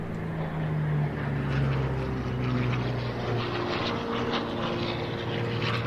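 A P-40 fighter plane passes with a continuous droning propeller engine roar that swells a little and then holds steady at moderate distance, with no voices.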